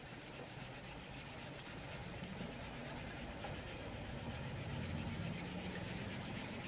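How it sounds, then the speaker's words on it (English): An eraser rubs back and forth on a paper drawing of a Roman pool design, a faint, steady scrubbing rasp that continues throughout. "now we can hit it with the eraser"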